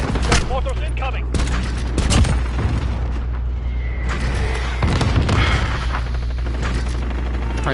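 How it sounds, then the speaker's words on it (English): Mortar explosions and gunfire in Call of Duty Modern Warfare Spec Ops, with repeated heavy booms and bursts of shooting over a constant low rumble, while a voice talks over the battle. "Mortars incoming."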